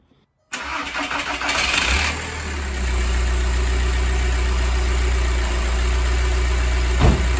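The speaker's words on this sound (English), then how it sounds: "we're going to go ahead and start up the car again and go ahead and prime our fuel system" A 2004 VW Beetle TDI diesel engine cranks and fires after a moment of silence, then settles into a steady, loud, close-up idle with a low rumble that runs to the end, with no talking.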